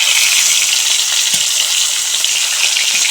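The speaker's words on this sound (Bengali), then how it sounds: "এখন অপর পিঠ ভেজে নেব।" Hot oil in a wok hisses and crackles steadily around a rui fish being fried on its other side, a loud, even, close sizzle with no voices.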